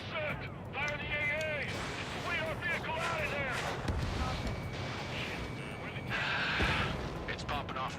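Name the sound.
explosions from smart bombs in the video game Ace Combat 7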